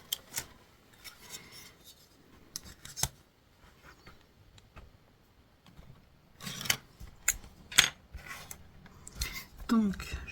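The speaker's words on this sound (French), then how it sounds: "je prends mon papier pour découper" Scissors snip through paper during a scrapbooking project making a folded pocket card, a few crisp cuts and rustles scattered between quieter handling sounds, close by.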